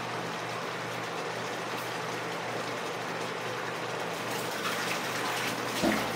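A pan of sardines and crumbled eggs boils with a steady, dense bubbling hiss, close and even throughout with no talk.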